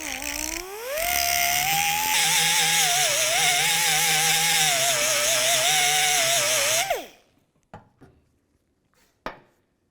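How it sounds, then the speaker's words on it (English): Cutting wheel grinding off a bolt head while replacing a tailgate cable on a 1994-2004 Chevy S10, a loud whining grind whose pitch rises as it spins up, wavers steadily, then stops, followed by a few faint clicks. "We're going to grind off the head on the other side."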